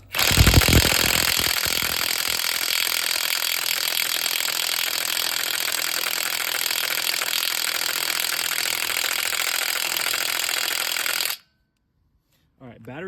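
A Bosch 3/8-inch impact wrench hammers continuously and loudly for about eleven seconds, a dense rapid rattling that stops abruptly and leaves near silence.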